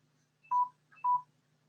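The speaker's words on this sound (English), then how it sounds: "My phone's bleeping at me." A mobile phone gives two short, clean electronic beeps about half a second apart, near and clear over a faint low hum.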